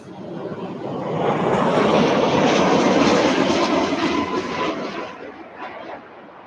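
Airliner coming in to land at East Midlands Airport, its broad engine roar swelling loud overhead and then fading away, heard from outside near the runway.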